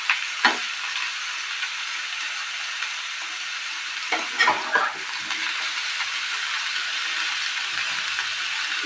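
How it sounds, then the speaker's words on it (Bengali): Boiled young jackfruit fries in a little oil with a steady, faint sizzle, broken by a few sharp scraping stirs near the start and again midway. "আমি সেদ্ধটা তেল অল্প করে ফ্রাই করে নেব"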